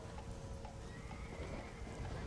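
A horse in the video game Red Dead Redemption: Undead Nightmare whinnies with a drawn-out neigh over a low rumbling background, joined by faint hoof clops, fairly quiet overall.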